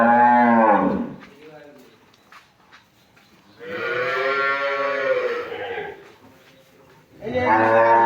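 A Jersey Friesian cow on a dairy farm gives three long, loud moos separated by quieter pauses, close by and alone.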